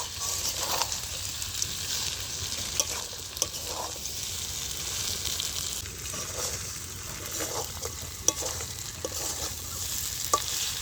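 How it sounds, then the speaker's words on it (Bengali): A meat curry with fried potatoes sizzles in a hot frying pan while a utensil stirs and scrapes through it, with occasional soft clicks against the pan, close up. "এবার একটু নেড়ে চেড়ে জল দিয়ে দেবো।"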